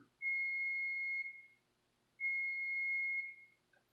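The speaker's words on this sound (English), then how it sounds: "That is my bean timer." A bean timer on a pot of cooking dry beans gives two long, steady, high whistles, each lasting over a second with a short gap between, clear and alone.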